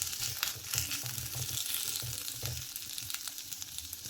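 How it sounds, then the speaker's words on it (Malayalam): Garlic, tomato and green chilli sauté in hot oil for a potato roast, giving a steady close sizzle and crackle with a few soft stirring scrapes throughout and no voices. "ഒരു 4 അല്ലി വെളുത്തുള്ളിയാണ്, ഒരു തക്കാളി വലുപ്പത്തിൽ തന്നെ കട്ട് ചെയ്തെടുത്തിട്ടുള്ളതാണ്, 2 പച്ചമുളക് എല്ലാം കൂടി ഇട്ട് കൊടുത്തൊന്ന് ആ എണ്ണയിൽ നിന്ന് വാട്ടിയെടുക്കണം"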